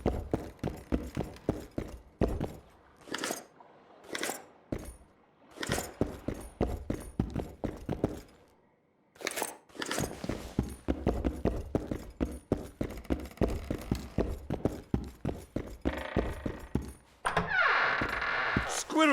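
Horse hooves clop in The Witcher 2: Assassins of Kings, a steady run of hoof strikes under game music and clattering effects, with bursts of louder impacts and a bright noisy swell near the end.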